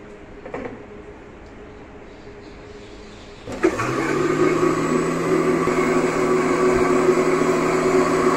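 A mixer grinder kicks on abruptly partway through and runs as a loud, steady whir, blending black plum (jamun) pulp for juice after a quieter stretch of room noise.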